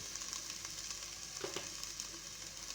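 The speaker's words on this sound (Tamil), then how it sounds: "நல்லா ஃப்ரை பண்ணிக்கோங்க." Spices and turmeric fry in oil with a soft, continuous sizzle and crackle, heard faintly and close, with a brief stir partway through and no talk.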